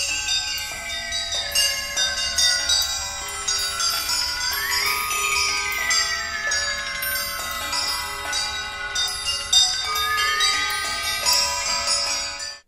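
Triangles ring out a fugue subject in a percussion fugue, bright shimmering metallic strikes in a steady melodic line with long overlapping sustain, loud and close, other percussion tinkling alongside.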